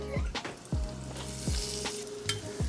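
Flaming Hot Cheeto bites frying in hot grease, a close, steady sizzle with repeated clinks and scrapes of stirring.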